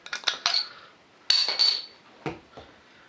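A cap comes off a bottle of Adnams Ghost Ship beer, heard as a few close, sharp metallic clinks and scrapes, with short taps and quieter gaps between them and no talking.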